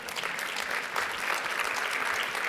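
An audience at a talk on social health breaks into sustained clapping from many hands, a dense even patter throughout with no pauses.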